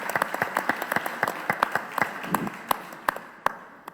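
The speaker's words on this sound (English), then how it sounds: "Another round of applause to our great panelists." An audience applauds panelists at the close of a financial services discussion, a thinning round of claps with sharp individual hits that slow and fade toward the end.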